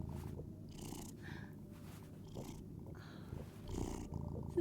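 A cat purrs while being petted in the game Life is Strange: Double Exposure, a low continuous rumble with faint intermittent brushing noises layered over it and no talking.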